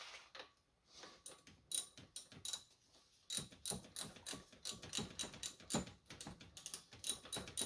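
A ratchet with a 17 mm socket tightens a motor mount bolt on an Acura TL, producing rapid, close metallic clicking in quick rhythmic strokes with brief pauses between runs.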